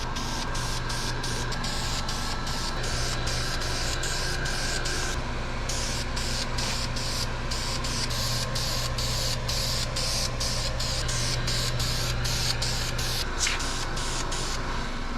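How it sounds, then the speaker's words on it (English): Etch primer sprays in a light coat onto a 1955 Chevy frame, a loud, steady hiss running continuously with brief, regular breaks as the trigger is released. "a little tiny light coat of this etch"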